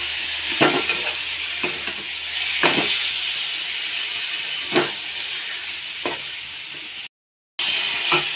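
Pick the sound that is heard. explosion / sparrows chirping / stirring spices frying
stirring spices frying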